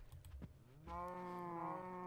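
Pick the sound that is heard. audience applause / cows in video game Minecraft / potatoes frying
cows in video game Minecraft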